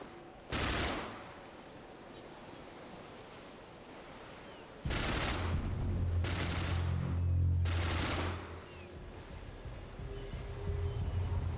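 Short loud bursts of gunfire blind-fired from cover in Dark Sector on PS3 crack out four times, one isolated and three in quick succession, over low rumbling ambience.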